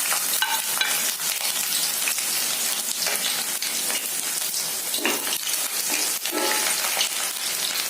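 Long slices of ginger fry in hot oil for a dates pickle, giving a steady, close, crackling sizzle with bursts of stirring throughout.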